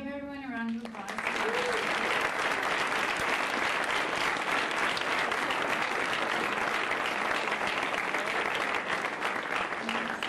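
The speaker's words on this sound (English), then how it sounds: "Can we give everyone a round of applause?" An audience at a long-table discussion on feminism and clay applauds steadily, the clapping dense and sustained after a brief voice at the start, filling the whole stretch at an even, loud level.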